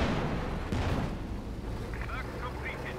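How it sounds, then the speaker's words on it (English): Stuka dive-bomber barrage in a Company of Heroes-style strategy game: dense, continuous rumbling explosions and artillery booms rolling together, loud and unbroken across the whole moment. "Stuka barrage coming in."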